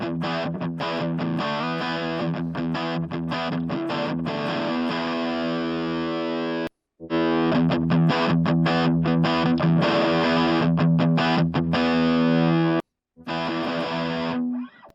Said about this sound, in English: this is just adding a little bit more saturation and rolling off some of the unwanted sub-frequencies